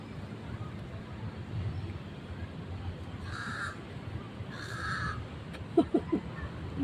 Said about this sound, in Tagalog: Nag-iingay na bird.